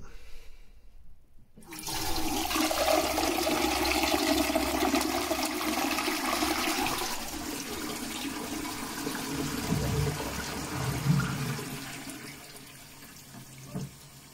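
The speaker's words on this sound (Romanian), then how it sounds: "Să vedem dacă mai curge când tragem apa." A toilet flushes after a leak repair at the base of the bowl, a loud rushing surge of water that holds steady for several seconds, then tapers into quieter refilling trickles with no voices.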